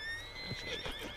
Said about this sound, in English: I'm gonna feed my horse real quick.